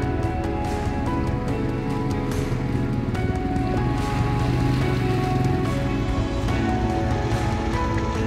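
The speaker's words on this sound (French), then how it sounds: "parce que là, il pleut là, depuis tantôt" Steady rain falls on a hunting camp in Newfoundland, a constant hiss of drops pattering on surfaces. It is fairly loud and close with no pauses.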